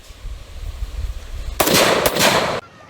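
A Big Boy AK rifle fires rounds from a magazine: a loud continuous burst of shots for about a second, a short gap, then another burst that cuts off abruptly, as if jammed.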